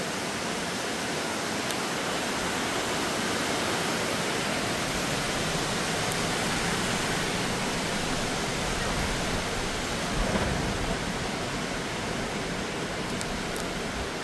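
Waterfall seen from above on a trip to Branson, Missouri, a constant broadband rushing roar that stays even and unbroken, with no voices over it.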